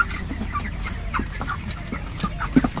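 Five 23-day-old broiler chickens sitting in a plastic bucket on a scale cluck in short, scattered bursts, close by, with some soft shuffling between the calls.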